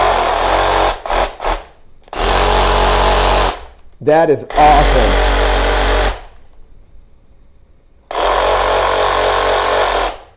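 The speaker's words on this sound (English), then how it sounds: "Take the safety off, and we'll see if it starts sawing." A Black and Decker 20V Max cordless reciprocating saw runs in loud buzzing bursts, stopping and restarting several times, with a brief excited spoken remark between the runs.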